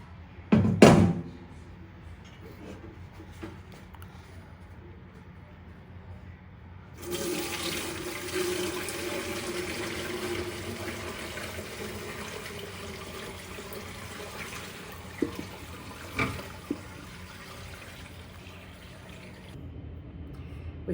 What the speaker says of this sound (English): We strained it off, and we have our stock.